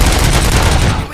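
Rapid gunfire in the RoboCop video game, a dense sustained burst of automatic shots filling the whole moment at close, loud range before tapering slightly at the end.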